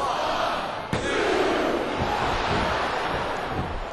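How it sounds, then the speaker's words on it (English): Wrestling arena capacity crowd roaring and shouting continuously, a dense steady noise with a sharp slam-like impact near the start. "This capacity crowd is making their opinions known tonight."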